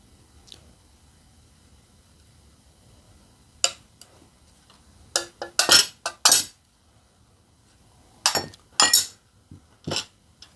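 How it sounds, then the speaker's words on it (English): Scored stained glass is snapped apart along a circular score line, producing a scattered series of sharp, close ticks and crisp cracks against a quiet background, some landing in quick clusters. "all the circles are done, and the inner ring is cracked all the way around"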